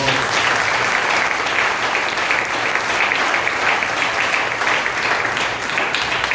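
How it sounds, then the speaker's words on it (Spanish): A church congregation claps for the Lord during a Sunday service, a loud, even wash of applause sustained for the full six seconds without pause. "Denle un aplauso al Señor."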